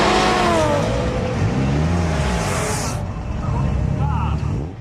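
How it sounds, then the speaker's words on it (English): A Mitsubishi Lancer Evolution IV drag car built by HKS Kansai accelerates hard at a drag strip, its engine loud and rising through the gears before cutting off near the end, with a voice talking over it. "this EVA 4 Lancer built by HKS Kansai is a consistent performer"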